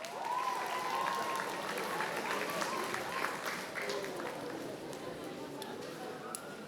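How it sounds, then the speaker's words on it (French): An audience at an anime convention cosplay contest claps loudly for the judges, a steady sustained round of applause with faint voices mixed in. "On peut les applaudir bien fort"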